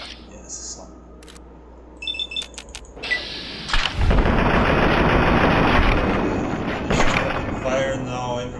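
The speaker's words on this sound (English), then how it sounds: "There's another soldier opening fire against me." Gunfire from a soldier in the video game Fallout 3: a few sharp clicks and shots lead into a sustained, loud burst of dense automatic fire that runs several seconds, with a voice speaking over part of it.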